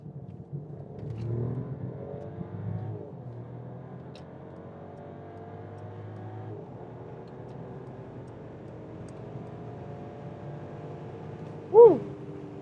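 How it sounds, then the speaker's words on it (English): A Mercedes S-Class accelerates from 50 to 170 km/h on the Autobahn, heard from inside as a muted engine note rising steadily in pitch through gear changes, with a soft muffled cabin roar. "So it was again 50 to 170 kilometers an hour with the Mercedes S-Class"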